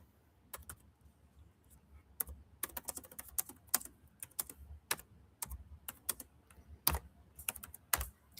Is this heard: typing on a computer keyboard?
yes